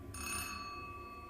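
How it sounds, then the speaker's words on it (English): A single telephone ring, bright metallic bell tones struck once and then decaying with a lingering hum, faint and alone. "the sound of the phone ringing once"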